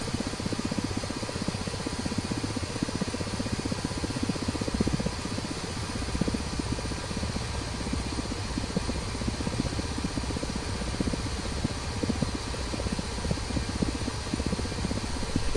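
Ka-50 Black Shark helicopter in the DCS flight simulator, its rotor chop and turbine roar steady and loud throughout the roll-out landing, with no voices.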